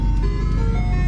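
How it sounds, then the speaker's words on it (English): Ice cream truck passes nearby with its tinkling chime tune playing steadily over a loud engine drone. "Oh, man, we have the ice cream man."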